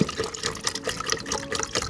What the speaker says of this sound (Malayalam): ഇതിലേക്ക് ഞാൻ വെള്ളം ഒഴിച്ചു കൊടുക്കുകയാണ്